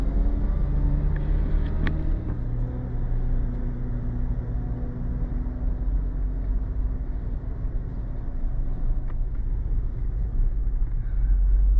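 A car crawls along in slow traffic backed up behind a wreck: steady low engine and road rumble heard from inside the cabin, continuous and fairly loud, with no talk.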